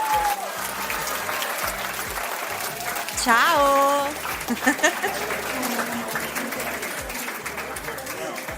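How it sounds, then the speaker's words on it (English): Steady applause and clapping fill a livestream, a continuous patter with a person speaking briefly over it. "to get a clap for you"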